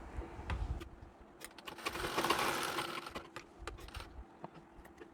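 A sewing machine stitching a Bharatanatyam dhoti runs in a short whirring burst at the middle, surrounded by quiet clicks and taps of handling the fabric, close and fairly soft.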